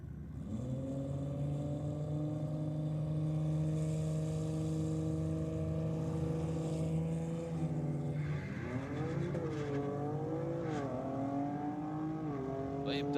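Race cars at a drag strip at night, BMW against Dado: a steady distant engine drone holds, then rises into a sweeping rev and acceleration, with a commentator voice faintly underneath.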